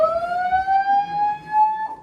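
A fire alarm sounder gives a loud, continuous electronic tone that slowly rises in pitch, sounding alone and close.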